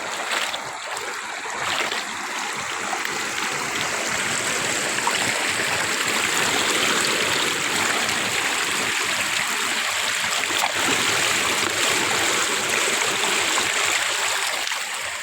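Shallow river water rushes and flows steadily over stones, a continuous broad wash heard alone without talk.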